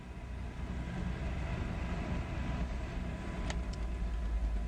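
A car engine revs out hard in first gear at about three-quarter throttle, heard as a steady, loud rumbling drone from inside the car. Two short sharp ticks come near the end.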